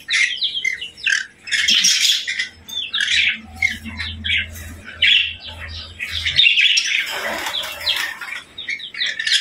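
Caged birds feeding on vegetables and fruit chirp and squawk in busy overlapping bursts close by, with occasional wing flutters and a low background hum.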